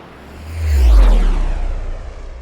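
An airplane takeoff plays as a sound effect, a single loud rising roar that swells to a peak and then fades away over a couple of seconds, with no talking.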